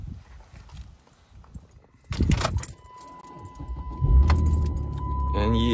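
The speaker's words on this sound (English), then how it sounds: "Let's start the car, make sure it runs" A Dodge Charger starts up after a new battery is fitted, with keys jangling, then the engine turning over and settling into a steady idle that continues to the end. A brief burst of sound comes before the start.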